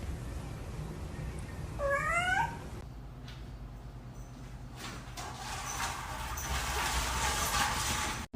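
An indoor cat gives a short rising meow early on, fairly clear against a quiet room, followed by soft rustling and a broadband noisy stretch toward the end.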